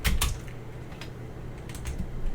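Computer keyboard clacking as someone types out game script code, a quick burst of keystrokes at the start followed by sparser, softer taps, close to the microphone with no talking.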